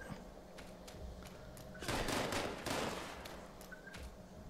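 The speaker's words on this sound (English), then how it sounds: "Somebody is shooting at me" Gunfire in Fallout 76 PvP: faint distant single shots at first, then a loud, rapid volley of automatic fire in two close bursts before fading back to scattered pops.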